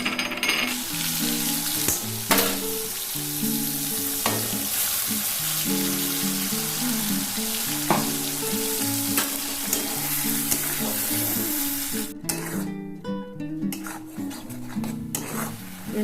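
Cinnamon, cloves, cardamom, a dried red chilli and two bay leaves sizzle steadily in hot oil, a continuous frying hiss running under background music with a few brief clinks.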